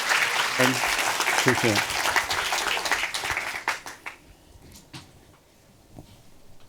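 Audience applause welcomes a speaker to the stage at a technology-in-communications symposium, a dense burst of clapping that thins and fades over several seconds, with someone briefly speaking near the end.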